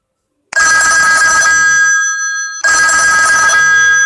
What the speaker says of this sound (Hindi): जैसा कि आप देख पा रहे हैं मेरे नाम की रिंगटोन बनकर तैयार है।